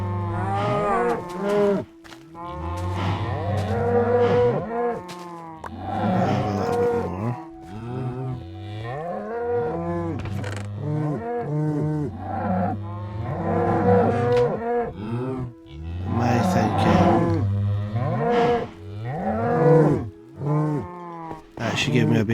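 Many cattle in the Minecraft video game lowing in overlapping deep, drawn-out moos, a loud, dense chorus that carries on steadily for over twenty seconds with only brief lulls.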